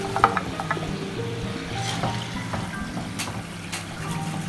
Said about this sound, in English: Just listen to the chana now, how crispy it sounds